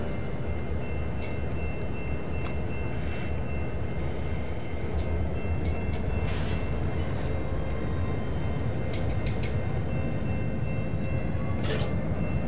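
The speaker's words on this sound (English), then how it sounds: "Let's back up and grab the rest of our train, shall we?" A simulated train in the Trainz railway game reverses to couple onto its wagons: a steady low rumble of rolling stock with faint high clicks and brief squeals, with no voices.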